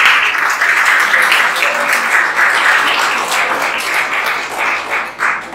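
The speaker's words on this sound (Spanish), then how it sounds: "Den un aplauso al Espíritu Santo" Church congregation applauding, a dense steady wash of many hands clapping that fills the whole stretch, fairly loud and close, tapering slightly toward the end.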